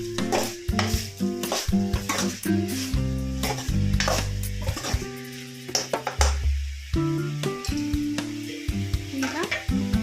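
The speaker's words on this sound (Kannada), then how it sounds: "ಈಗ ಇದೆಲ್ಲ ಚೆನ್ನಾಗಿ ಮಿಕ್ಸ್ ಮಾಡೋಣ" A spoon scrapes and clanks against a pan while bitter gourd curry with turmeric and salt is stirred, with a soft sizzle underneath and irregular metallic knocks and scrapes throughout.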